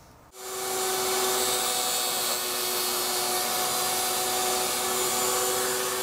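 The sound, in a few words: router routing a guitar cover cavity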